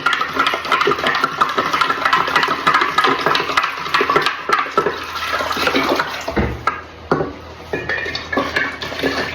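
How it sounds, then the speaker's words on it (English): A large spoon stirs sugar into kombucha tea, making a continuous busy swish of liquid with frequent metallic scrapes and clinks against the pot, close and fairly loud, with no talking. "this is just stirring to get the sugar mixed in"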